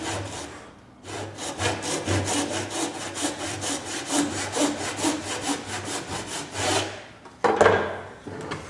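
Hand saw cutting through wood for a tee halving joint, a steady back-and-forth rasp of repeated strokes running loud and close for about seven seconds, then a brief pause and a few more strokes.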